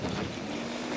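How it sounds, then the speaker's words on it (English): Strong wind buffets the microphone on a gyrocopter runway, a brief, steady roar of gusty noise with no voices. "Okay, really windy conditions."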